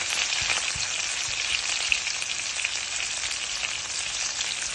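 Curry leaves and dried red chilies crackle in hot oil for a sambar tempering, a bright, dense and constant sizzle heard close and alone without any speech.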